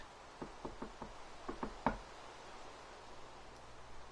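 Knuckles rap on wood in a quick series of about seven knocks, spaced unevenly and close to the mic, with the last knock loudest, followed by quiet room tone.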